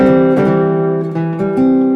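A single guitar chord, a major triad with the third in the bass, rings out and sustains, with a light re-strike partway through, close and fairly loud, no voices.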